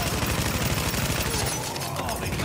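SMG fire in The Division, loud, fast continuous bursts of automatic gunshots with rapid rhythmic cracks that ease off slightly toward the end, no speech.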